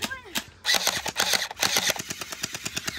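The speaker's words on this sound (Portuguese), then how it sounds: "A arma dela é muito é barulhenta." Rapid, noisy gunfire from a character's weapon in a video game, a fast run of sharp repeated shots filling most of the clip, with a voice speaking briefly near the start.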